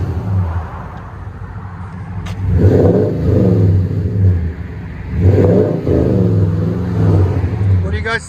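A 2014 Toyota Tundra 5.7L V8 with Flowmaster Super 40 dual exhaust revs twice in deep, loud bursts from a rumbling idle, close by, with people talking over it.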